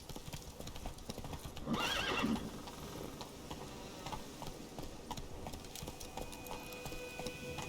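A horse gallops in the Witcher 3 video game, its faint rhythmic hoofbeats running throughout, with a whinny near the start and light ticking game sounds in the background.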